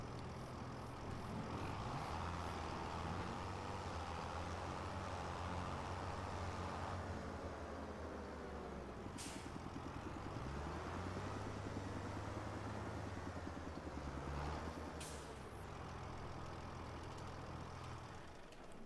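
A tractor in Farming Simulator 25 drives along with a steady mechanical engine drone that shifts pitch as it moves, joined by a couple of sharp clanks, heard alone and moderately loud.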